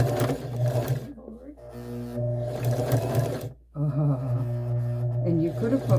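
A sewing machine stitches in the ditch on a quilt, its motor whirring loudly in several runs with short pauses between them, while a person talks over it.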